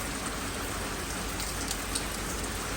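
Steady, even rain falling in London after a heavy downpour has eased, a continuous soft hiss of drops on surfaces with no voices, constant in level throughout.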